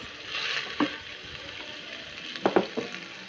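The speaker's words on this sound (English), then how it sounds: "Then I'll let my bulb onions cook with the beef for a while" Bulb onions frying together with beef in a pan, a steady soft sizzle with a few brief stirring clatters and scrapes near the end, no voices.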